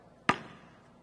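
A single sharp slap of a basketball landing in hands, close and crisp, followed by quiet.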